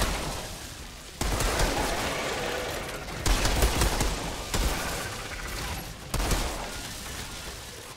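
Rapid pistol gunfire from the shooter game Outriders, dense volleys of loud shots in several bursts with brief gaps between them, with no talk.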